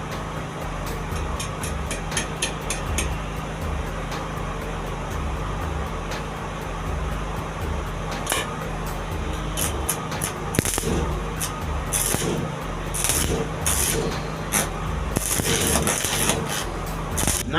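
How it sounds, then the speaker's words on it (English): Arc welding with a home-made welding machine: a steady, dense crackling hiss that continues unbroken throughout, with occasional sharper pops and spitting bursts, loud and close, no talk. "So at this point, you start your welding."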